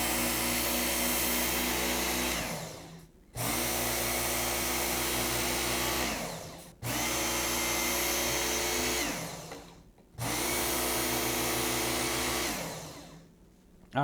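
A belt grinder fitted with a 6000 grit polishing belt runs as a loud, steady motor whine, sharpening a knife. It winds down and restarts four times in a row.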